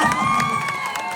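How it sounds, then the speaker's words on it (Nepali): A crowd at a comedy dance show cheers and claps, bright shouts over a sustained musical tone, brief and lively. "जोरदार ताली"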